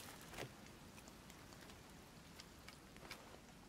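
Rain falls steadily in the survival game Sons of the Forest, a faint, even patter of drops with no voices.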